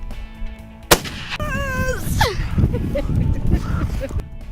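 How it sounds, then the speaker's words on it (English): A single sharp rifle shot rings out loud and close while hunting a buck from a hill, followed by ringing echoes and voices talking excitedly right after. "just put it right on his shoulder and squeeze the trigger"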